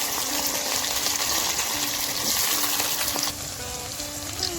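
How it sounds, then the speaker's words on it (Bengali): Ivy gourd dropped into hot oil in a wok, a dense, fairly quiet hiss of frying that eases slightly near the end, with no talk. "এবার একটি কড়াইয়ে তেল গরম করে প্রথমে আমরা দিয়ে দেব কুঁদরি"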